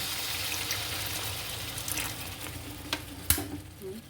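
Spices with asafoetida fry and sizzle in a pan for lemon pickle, a steady crackling hiss broken by a few sharp stirring clinks and scrapes.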